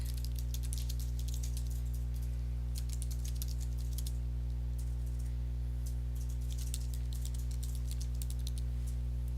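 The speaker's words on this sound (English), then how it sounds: "Here you want to type in your blog address" Typing on a computer keyboard, with quick irregular bursts of light key clicks over a steady low electrical hum, close and moderately faint.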